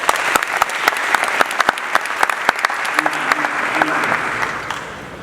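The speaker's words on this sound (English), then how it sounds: "Give our student minister another round of applause." A live audience in Washington, DC gives a round of applause for a student minister, sustained close clapping with crisp individual hand claps and a voice briefly audible beneath it.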